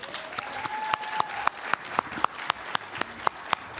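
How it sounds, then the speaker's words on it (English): At a convention main stage event, scattered audience applause with a few distinct, sharp hand claps in loose rhythm, moderately close, with a faint tonal sound running underneath. "Y'all give her a hand clap."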